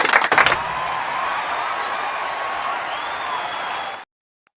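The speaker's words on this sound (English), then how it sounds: "Let's give him a round of applause" Studio audience applause breaks out after a short burst of speech, a steady wash of clapping and cheering that carries on for about four seconds and then stops abruptly.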